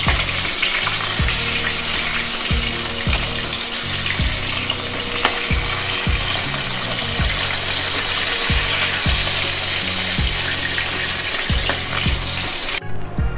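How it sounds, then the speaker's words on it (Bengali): Koi fish frying in oil, a loud continuous sizzle with repeated scraping and stirring strokes of a spatula as the pieces are turned, steady throughout. "এপিট ওপিট করে ভালো করে মাছগুলোকে ভেজে নিতে হবে।"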